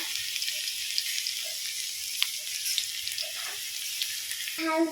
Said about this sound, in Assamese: তেল গৰম হৈছে আৰু এতিয়া দি দিলোঁ এইখিনি খুন্দি থোৱা নহৰু